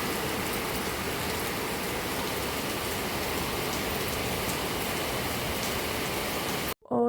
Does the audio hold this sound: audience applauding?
no